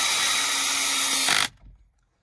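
A power screwdriver runs steadily at its strongest setting while work is done on a Mercedes GLE/GLS W167 or X167, a loud continuous whine that stops abruptly, leaving a brief low clunk afterward.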